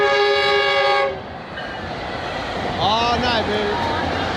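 A train horn blasts loudly at first, then a train rumbles past with squealing wheels and rail noise, continuous and close.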